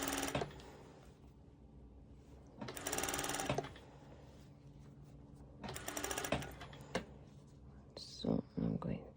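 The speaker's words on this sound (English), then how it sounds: "So you can do this step with your normal sewing machine using a zigzag stitch." An ordinary home sewing machine runs a zigzag stitch topstitching ruched leggings, in several short whirring bursts separated by pauses and soft handling, with a faint voice near the end.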